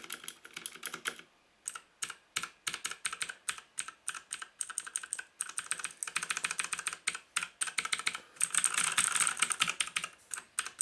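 Key presses on a JK-TECH E-Element Z-88 mechanical gaming keyboard: bursts of close, crisp clicky typing with short pauses, a quick flurry of rapid keystrokes near the end, no talking.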